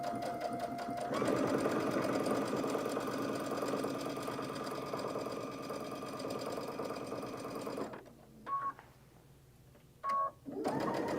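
A home sewing machine stitches a dress in a long, steady, whirring run of rapid needle strokes close by, then stops and gives two short bursts of stitching separated by near silence.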